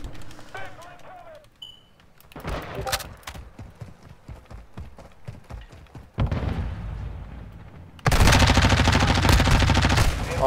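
Bursts of gunfire from a Lachmann submachine gun in Call of Duty: Modern Warfare II, rapid automatic shots growing into dense loud volleys, mixed with game effects and a voice talking.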